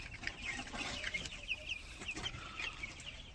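A flock of Tiger breed chicks on a farm cheeps and clucks in repeated high, quick calls, many voices overlapping near and far over a low background hum.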